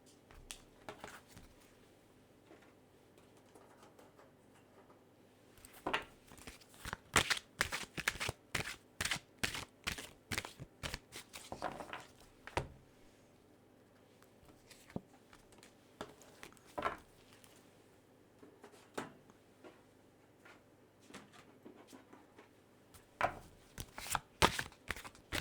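Oracle cards are shuffled in quiet bursts, soft rapid riffles and slaps in several runs with pauses between them, close and faint.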